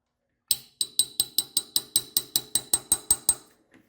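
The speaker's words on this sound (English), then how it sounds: "tap the pin into place" A metal pin is tapped into the crankshaft nose of a C6 Corvette during harmonic balancer replacement, about fourteen sharp, evenly spaced hammer strikes ringing close and clear with no talk.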